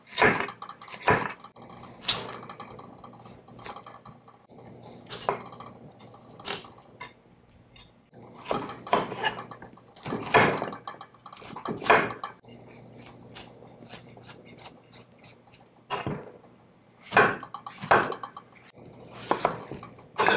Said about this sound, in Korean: 이런 식으로 하셔갖고 자르면은 잘 깎입니다.